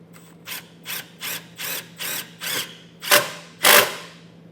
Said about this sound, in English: We'll grab our self-tapper, and then we're just going to send it into the bottom here.